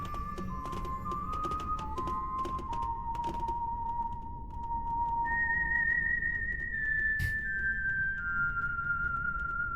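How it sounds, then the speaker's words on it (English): A character in the video game Trails Through Daybreak whistles a slow melody through his teeth, thin sustained tones stepping between pitches, with soft clicks and background game sounds. "Whistling with his teeth"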